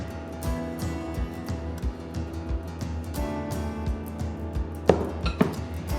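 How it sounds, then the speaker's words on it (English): Small pieces of butter get a rough chop into flour, the knife striking the board in a steady run of soft, near thuds with light scraping between them, and a couple of sharper knocks near the end. "Just like to give it a little rough chop so it's a bit easier to get started"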